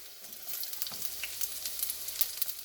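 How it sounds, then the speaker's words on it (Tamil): Chopped onions dropped into hot oil with ginger and garlic, a steady close hiss of frying with crackling pops throughout, fairly even and continuous over the short span. "வெட்டி வச்சிருக்கிற வெங்காயம் போடுறேன்"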